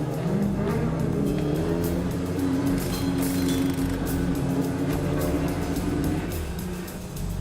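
Race cars start a race, engines roaring loud and steady throughout with layered revving tones from several cars, close and continuous.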